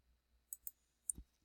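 A computer mouse clicks during digital image editing, sounding as three or four crisp, quiet, close clicks spaced irregularly over near silence.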